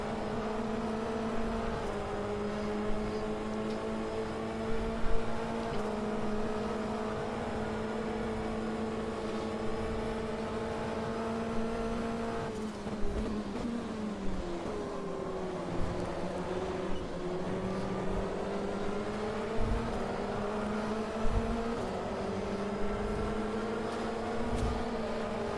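Steady, continuous engine drone of an LMP2 prototype race car in the sim racing game Automobilista 2, with shifting pitch as revs rise and fall and brief clicks over a constant roar.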